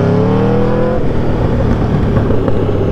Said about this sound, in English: It's backfiring like crazy, bro.